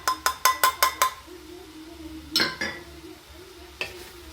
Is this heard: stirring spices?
yes